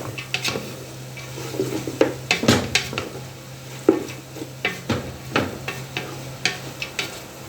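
Lumpia sariwa filling of carrots being stirred in a pan, a metal utensil scraping and clinking against the pan in repeated irregular strokes over a low steady hum, with no talking.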